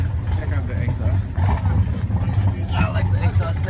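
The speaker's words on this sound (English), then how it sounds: "Check out the exhaust." A custom yellow C5 Corvette at a car show idles with a steady, deep exhaust burble and low rumble close by, with people talking over it throughout.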